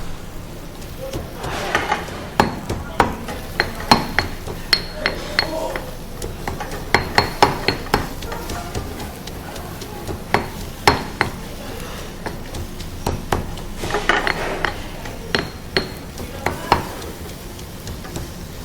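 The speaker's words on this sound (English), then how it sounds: "I'm just mincing this garlic" A knife minces garlic on a cutting board with irregular, fairly close chopping taps in bursts, alongside kitchen stirring and faint sizzling in a Fijian resort kitchen.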